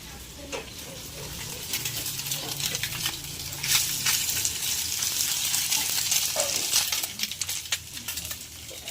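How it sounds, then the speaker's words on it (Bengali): Fish frying in a pan of hot oil in a home kitchen: a steady, close crackling sizzle runs throughout, with sharper pops and spatters bursting out every few seconds. "এখন এটা মাছ ভাজাটা হয়ে আসছে"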